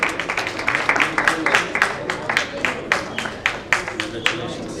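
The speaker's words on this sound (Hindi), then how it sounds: "a huge round of applause for your anchor" An audience at an education conclave and award ceremony applauding the anchor, with dense, steady clapping from many hands, fairly close and continuous, with some voices mixed in.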